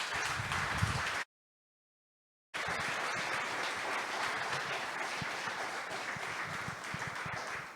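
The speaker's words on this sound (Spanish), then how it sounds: "¿Le quieren dar un aplauso al Señor por su gracia?" A church congregation applauding in praise: sustained dense clapping from many hands, briefly cut out by a moment of total silence near the start, then continuing steadily and close.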